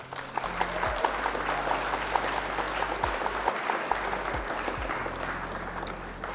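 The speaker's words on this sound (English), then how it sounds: "Round of applause for being here." A round of applause from a crowd: dense, continuous clapping at even loudness throughout, with faint electronic tones underneath.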